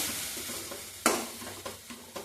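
Drumstick leaves sautéing for a thuvaiyal give a soft steady sizzle, broken by a few sharp scrapes and clinks of a spatula stirring through the pan.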